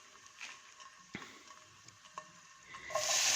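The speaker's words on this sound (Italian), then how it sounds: "Faccio dorare l'aglio nell'olio extravergine d'oliva e lo faccio dorare per bene." Garlic cooking in extra virgin olive oil in a pan, a soft steady sizzle with faint stirring clicks, rising to a louder hiss near the end.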